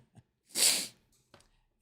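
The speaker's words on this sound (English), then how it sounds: "Gotta sneeze" A single short, breathy sneeze up close, with a faint sniff before and a small breath after in otherwise quiet surroundings.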